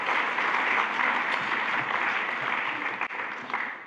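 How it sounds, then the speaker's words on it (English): Sustained applause from a church audience, a dense steady wash of clapping that holds evenly for several seconds with no speech over it. "Let's give her another clap."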